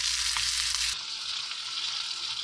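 A steak sizzles in a pan, giving a loud, dense frying hiss with a low rumble that suddenly thins partway through, then settles into a steady, slightly quieter sizzle up close, no voices.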